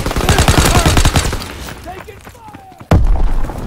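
Gunfire in the video game Call of Duty WW2 on Xbox One, a dense rattling burst of automatic shots close by that fades out, then a sudden loud blast, with a voice speaking over the action.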